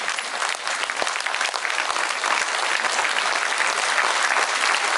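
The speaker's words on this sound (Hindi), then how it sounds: "जितनी भी ताली आप मार लो, वो उसके लिए कम है।" An audience at an award ceremony for women in Uttarakhand applauds loudly and steadily, with dense continuous clapping filling the whole stretch and no break.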